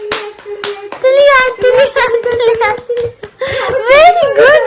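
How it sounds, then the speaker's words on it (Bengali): Hand clapping sounds in short bursts close by, mixed with a child's excited speech and giggles and a voice talking over it indoors. "মা হাততালি দেবে।"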